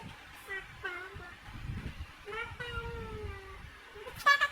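Someone imitates a cat with several drawn-out meows in a row. The voice sits up close over low background rumble, followed by a brief louder burst at the end.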